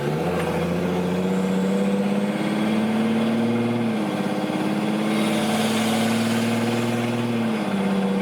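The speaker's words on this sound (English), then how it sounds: "The truck would sound so good if it wasn't rattling though." A Cummins diesel Megacab dually pickup idles loudly and close, its low drone dipping and recovering twice in a slow cycle, with a faint irregular tapping rattle in the mix.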